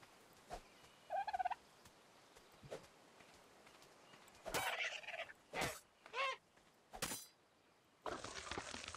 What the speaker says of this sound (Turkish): Hindi, glu glu.